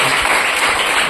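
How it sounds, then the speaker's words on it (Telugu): A church congregation clapping hard together, a dense, loud burst of applause filling the room for a brief moment. "గట్టిగా చప్పట్లు కొట్టి"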